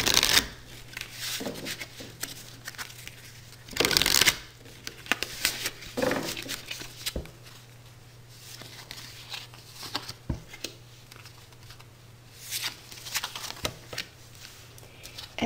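Tarot cards being shuffled by hand, close and crisp, with riffling and sliding strokes in uneven bursts and a louder flurry partway through, over a quiet background.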